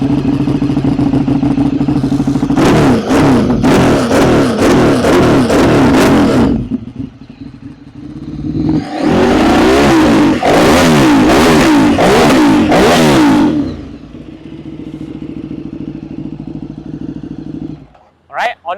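A 2012 Ducati Streetfighter 848 fitted with an Akrapovic titanium exhaust idles loud and close, then blips through two hard bursts of revving that fall back to a steady idle before cutting off near the end.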